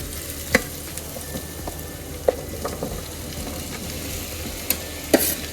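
Vegetables fry in ghee in a pot for veg biryani, giving a soft, steady sizzle with occasional sharp clinks and scrapes from a stirring spoon, close by and with no voices.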